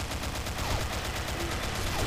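Tar 21 assault rifle in a video game firing on full auto, a dense rapid stream of shots at steady rhythm, loud and continuous for about two seconds with no voices.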